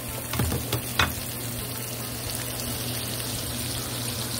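Eggplant frying in olive oil gives a steady, close sizzle throughout, with a few light stirring knocks near the start and no talking.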